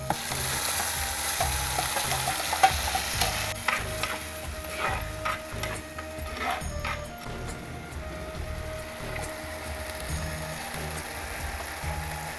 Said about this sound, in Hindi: टमाटर और लहसुन का पेस्ट डाल रहे हैं।